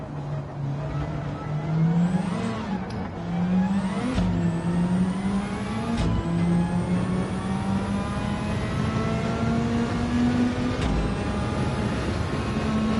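A Nissan Skyline Super Silhouette race car in Gran Turismo 7 drives a wet track, its engine droning loud and steady, rising in pitch through the gears with sharp shift breaks and repeated climbs, no talk over it.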